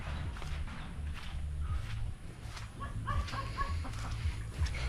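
Hen clucking close by near her outdoor laying spot, soft repeated clucks over a rustling farmyard background with some shuffling footsteps.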